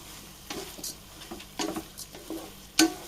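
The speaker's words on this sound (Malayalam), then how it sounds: "നല്ല പോലെ നമുക്ക് ഇളക്കി കൊടുക്കാം." Rice is stirred into a pot of Yemeni mandi with soft scraping and rustling strokes, quiet and close, ending in a brief metallic clink.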